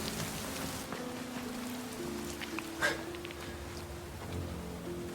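Steady rain falls as a soft continuous hiss of drops on surfaces, with a faint low hum beneath and one brief sharper patter midway, and no talking.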